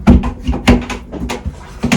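A small access door under a bench in the cabin of a Dufour 375 Grand Large sailboat knocks and clunks as it is handled, several sharp close thuds spaced irregularly with no talk.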